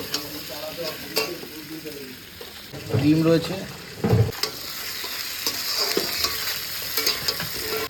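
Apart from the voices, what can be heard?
frying and stirring spices and potatoes in a pan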